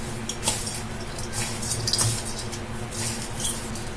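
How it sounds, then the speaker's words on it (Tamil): Ground coconut and country sugar mixed by hand in a bowl, giving soft close rustling and squishing with light clicks against the bowl, no voices. "அதை வந்து இந்த பவுல்ல போட்டுக்கலாம். நம்ம பவுல்ல போட்டுட்டு இது எல்லாத்தையும் நம்ம கை வச்சு நல்லா மிக்ஸ் பண்ணிடலாம்"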